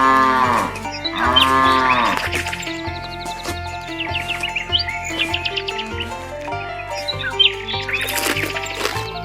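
A cow lets out several long, loud moos one after another, with birds chirping lightly in the background in a grassy outdoor setting.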